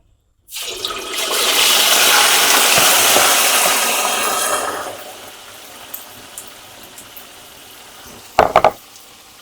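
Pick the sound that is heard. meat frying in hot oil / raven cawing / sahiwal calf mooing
meat frying in hot oil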